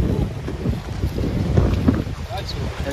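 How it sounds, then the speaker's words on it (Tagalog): Strong wind at a beach resort in Sariaya, Quezon buffets the microphone in a continuous, uneven roar with gusty surges throughout, and faint voices are partly buried beneath it. "Oh, lakas ng hangin."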